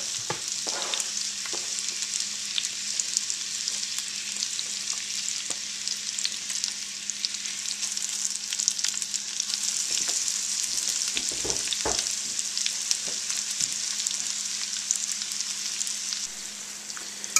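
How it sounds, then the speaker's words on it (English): Onions sauteing in melted butter over high heat in a pan give a steady, dense sizzle and crackle with no letup, close and moderately loud throughout. "now we're just going to go ahead and throw the onions in here. Let them start sauteing away"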